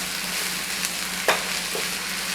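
Onions and spices being stirred in a pan as they soften, a soft sizzle under one or two brief scraping stirs, close and fairly loud.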